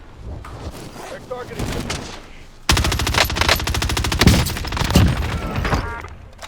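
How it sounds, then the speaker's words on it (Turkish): The Fara 83 rapid-fire rifle in Call of Duty Warzone lets off long, dense automatic bursts, loud and close, after a quieter stretch of scattered shots and game ambience. "Çok seri bir silah. inanılmaz seri bir silah."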